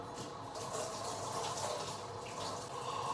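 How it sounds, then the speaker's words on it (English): Cold tap water runs steadily into a kitchen sink, a continuous broadband splashing rush at moderate level with no breaks and no talking. "I think I'm supposed to put cold water on it."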